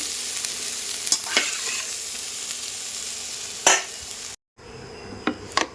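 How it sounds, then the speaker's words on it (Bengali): Pieces of young jackfruit frying in oil in a pan, with a constant close sizzle broken by several sharp scraping stirs and a brief cut partway through. "ইঁচড়গুলি একটু ভেজে নেব।"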